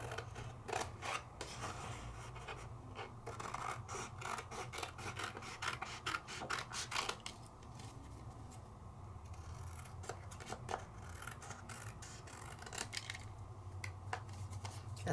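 Scissors snip through a paper stencil in a rapid run of quiet, close clicks and rustles, with brief pauses between cuts and no talking.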